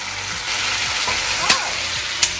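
Food sizzles steadily as it fries in a pan and is stirred, with two sharp utensil clicks against the pan standing out above the continuous crackle.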